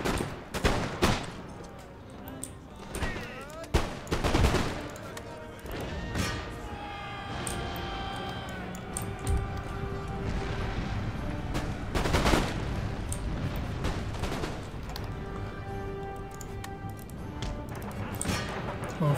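Musket volleys and scattered gunfire from the Empire Total War strategy game, Russian troops in battle, with repeated loud crackling bursts and rumbling booms over a continuous battlefield din, fairly close and dense.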